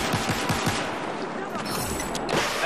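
Video game gunfire in a pistol-versus-sniper match: rapid bursts of shots rattle loudly, the first second dense with repeated reports, then a mixed clatter of game sounds continues without pause.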